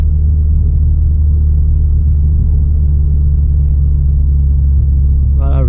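A 2016 Subaru WRX engine drones low and steady from inside the cabin while driving, a loud, constant rumble with no change in pitch; a brief voice rises near the end.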